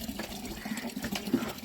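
Water runs from a pipe into an open drain in a steady, fairly faint trickling gush that lasts throughout, with no talking.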